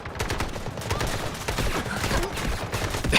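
Rapid automatic gunfire from the KC17 rifle in the shooter game Delta Force, a sustained stream of sharp shots in quick succession, loud and close throughout.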